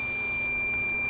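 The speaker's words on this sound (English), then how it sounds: "in diode mode, if you touch them together, it beeps" A continuous high-pitched electronic beep from a multimeter in diode mode sounds steadily throughout, with a faint background hum and no talking.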